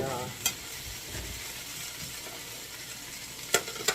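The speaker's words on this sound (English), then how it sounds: "now I'm going to add that little bit of garlic that I cut up in there with the rest of those onions" Garlic, onions and baby red potatoes fry in a pan with a constant close sizzle, broken by a few crisp utensil taps at the start and end.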